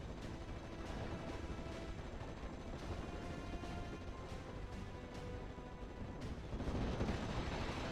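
Sherman tank cannon and Pak 40 anti-tank gunfire in a World War II strategy game, a dense rumbling wash of distant booms and crackling shots that swells louder near the end, with no speech.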